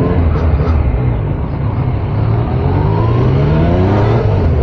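A Yamaha MT-09 motorcycle engine revs hard while riding through traffic, a loud, sustained roar that rises steadily in pitch as the bike accelerates, with wind rushing close to the microphone.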